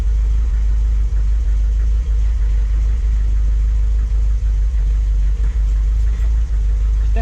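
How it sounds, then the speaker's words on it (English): A Triumph TR7 propped on axle stands with a front wheel off has its clutch depressed, and the engine drones loud and steady at close range while a faint irregular rattle comes through underneath. "It's making like a rattling noise."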